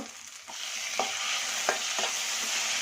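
Curry leaves fry in hot oil in a pan, giving a steady close sizzle with several light spoon scrapes and taps, without talk.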